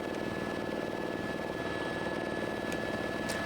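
Steady helicopter rotor and engine drone heard from inside the cabin while flying over Everest Base Camp in the Himalayas after a snowfall, a constant loud hum with no talk.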